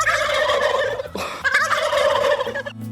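A wild turkey gobbles in a loud, rattling burst, followed by a second raspy gobble, close and clear with faint background noise.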